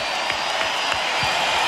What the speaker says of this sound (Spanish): Gracias por venir, Gustavo Cerati. Recibe el aplauso de toda la Quinta Vergara.